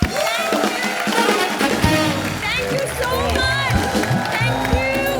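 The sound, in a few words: studio audience applause and cheering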